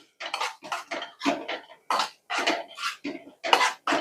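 Grated coconut is stirred in a pan with a spoon, giving a series of distinct scraping, clinking strokes in an uneven rhythm, close and clear with no talking.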